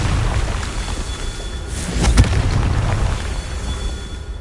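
A Confringo spell blast in the Hogwarts Legacy video game: a single deep boom in the middle with a rumbling tail, set against steady game ambience.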